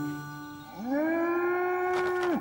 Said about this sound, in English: I'm hearing mooing wherever I go now.